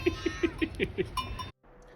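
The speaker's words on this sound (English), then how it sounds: "we had to deal with some particularly aggressive sheep." Sheep on the mountain road to Trollstigen in Norway bleat in a quick run of six or so short, close calls with a bell-like clank, then the sound cuts to near silence.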